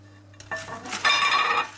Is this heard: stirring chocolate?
yes